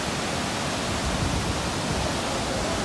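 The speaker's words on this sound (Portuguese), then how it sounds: "Uma cachoeira linda." Rushing water from a waterfall in Rio de Janeiro where rivers meet, a constant broadband roar filling the scene evenly and steadily with no talking over it.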